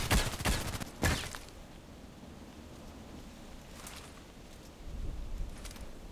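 Distant enemy gunfire in the video game Contract Wars, a few scattered muffled shots and short bursts over a faint, rain-like ambient hiss.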